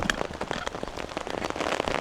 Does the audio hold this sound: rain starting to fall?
yes